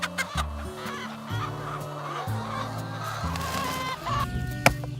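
Several pastured chickens cluck and murmur close by in overlapping, repetitive bursts, with a sharp squawk near the end.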